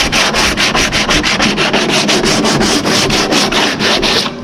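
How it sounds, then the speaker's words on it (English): Orbital sander roughing up the fibreglass of a fishing sleigh, a loud, steady close-up scrubbing with a fast pulsing rhythm that runs continuously alone, no voices. "from the orbital sander when we redid the hardwood floors, and we'll just kind of rough up all around it."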